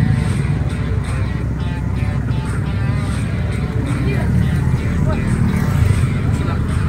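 A Yamaha X-Max scooter engine at a speed tuning event runs loud and steady, droning continuously with rising rev pressure under shouted encouragement and crowd chatter.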